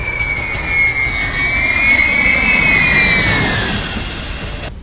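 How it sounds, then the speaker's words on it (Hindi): A B-52 bomber flies past with a loud, steady jet roar, topped by a high whine that rises and then slowly bends downward. No voices are heard over it. "B-52 बॉम्बर्स बेहद ही खतरनाक माना जाता है।"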